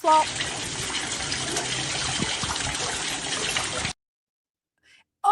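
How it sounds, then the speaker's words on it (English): An indoor waterfall fountain runs with a loud, steady splashing rush of water for about four seconds, then cuts to near silence with only a brief faint sound afterward. "The waterfall is coming from up here. It's very loud."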